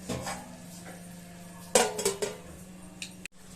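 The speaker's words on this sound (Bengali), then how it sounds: "এবার এটাকে ভালোভাবে নাড়িয়ে এবার একটু ঢেকে রাখবো" Chicken liver curry (gile mete chorchori) being stirred in a pan with coriander powder and Kashmiri chilli powder, giving a few metallic scrapes and clinks of a spoon against the pan amid a low kitchen hum.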